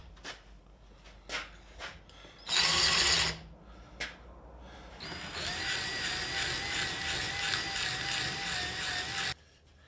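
A band saw cuts out a wooden wheel felly pattern with loud bursts of whining, rasping cutting, first a short harsh surge, then a long sustained high-pitched whine that ends abruptly, with sharp knocks and handling thumps between cuts.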